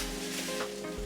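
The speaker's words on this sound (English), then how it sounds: "first we're gonna put oil in the pan" Oil heating in a cooking pan for a beetroot curry, a steady soft sizzle and hiss with a faint hum underneath, continuous and close.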